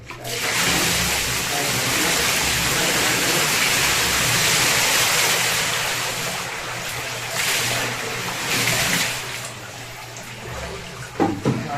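Continuous rushing, splashing water during an immersion baptism fills the scene, loud and close, easing slightly toward the end with a few sharper splashes.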